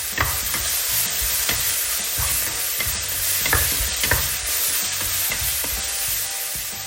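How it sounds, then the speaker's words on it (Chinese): Chinese chives tossed with a spoonful of starch in a hot wok, a steady loud sizzle broken by repeated scraping strokes of a spatula in an even stirring rhythm, with no voices. "然后翻炒"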